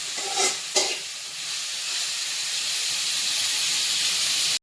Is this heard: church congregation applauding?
no